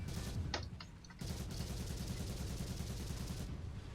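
Machine-gun fire from a Churchill VII tank in War Thunder, a sustained rapid rattle of rounds, briefly paused early on, then steady continuous bursts, loud and close with a dense low rumble underneath.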